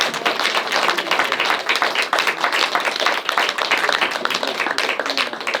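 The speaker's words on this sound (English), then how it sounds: "Y'all clap it up for Kaya." A crowd at a live meet-and-greet event claps for Kaya, steady dense applause that stays loud and even throughout, with no voices standing out.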